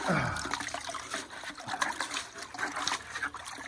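Water trickles and splashes steadily with a wet, bubbling texture, close by and fairly loud, no voices, running through a highbanker sluice over Miners Moss while working gravels for gold.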